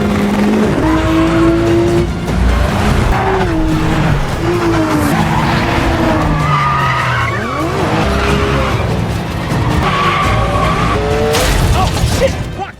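A car chase with tires skidding and squealing over roaring engines, loud and continuous, with screeching slides rising and falling throughout and a brief crash-like burst near the end.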